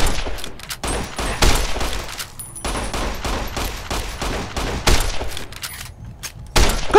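Gunfire in the video game Fallout: New Vegas: loud, rapid bursts of shots rattle almost continuously, with short gaps between volleys and a few heavier thuds.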